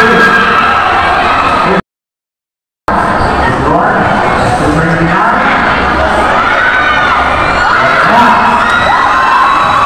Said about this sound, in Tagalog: Gusto nyo bang marinig yung sigawan nila?